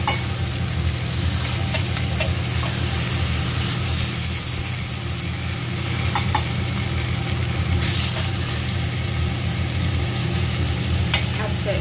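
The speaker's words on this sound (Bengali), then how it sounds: "এবার মাছটা দেওয়ার পরে সামান্য একটু মাছের সঙ্গে একটু কষে নেব, যাতে মশলাটা মাছের সঙ্গে মিশে যায়" Rohu fish pieces frying in black cumin spice paste in a pan, giving a steady, dense sizzle that runs the whole time with a few faint stirring scrapes, close and loud with no talk.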